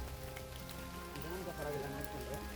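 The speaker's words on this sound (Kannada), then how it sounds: "ಎಡೆಬಿಡದೆ ಸುರಿಯುವ ಮಳೆಯ ಸದ್ದು" Steady pouring rain in the hills of Chikkamagaluru, a soft, continuous hiss of drops on surfaces, faint and unbroken, with a low tonal hum beneath it.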